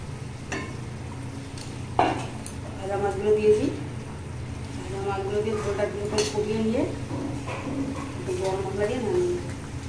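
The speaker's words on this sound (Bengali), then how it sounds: "ঝোল ফুটে গেছে এখন বাজার মাছগুলো দিয়ে দেবো" Fish pieces go into a pot of boiling curry, bringing a soft clatter of utensils against the pot and a low bubbling simmer, with someone talking over it throughout.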